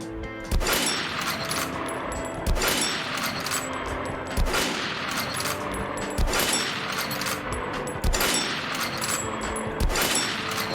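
Rapid gunfire from the video game Metro Last Light, loud and dense, with bursts of shots rolling over a continuous roar and heavier booms roughly every two seconds, no talk.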